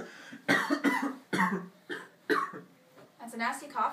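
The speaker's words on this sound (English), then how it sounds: "That's a nasty cough you got there." In The Walking Dead video game, a character coughs harshly in several bursts, close and loud, with throat clearing between them and spoken dialogue nearby.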